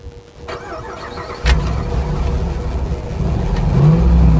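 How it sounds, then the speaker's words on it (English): A Dodge Ram 1500 pickup's V8 catches and idles with a low rumble, then swells into a steadily building rev close to the microphone, with no talking. "Yeah, that's the V8 sound."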